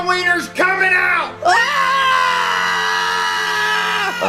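Airplane passengers scream during a crash, a sustained high-pitched wail that breaks briefly, then swells into one long continuous shriek, loud and close, with voices blending together.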